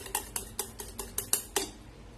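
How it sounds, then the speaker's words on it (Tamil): A whisk beats powdered sugar into eggs in a bowl, about eight quick evenly spaced clinks of metal against the bowl over two seconds, close and fairly quiet. "இதையும் இந்த முட்டையோட சேர்த்து நம்ம அடிச்சுக்கலாம்"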